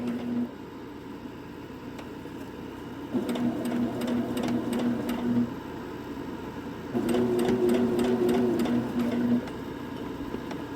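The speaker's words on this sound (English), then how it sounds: "we're going to sew slow" A sewing machine stitches curved quilt pieces slowly in two separate runs, a steady mechanical hum with rapid needle ticking, fairly close and with no talk.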